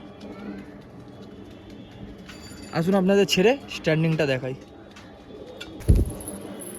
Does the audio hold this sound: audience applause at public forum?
no